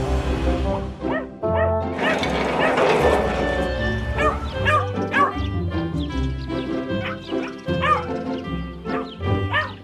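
Cartoon dog barks and yips repeatedly in a garden with a doghouse, mixed with music and a cheerful voice, with short bursts at close range throughout.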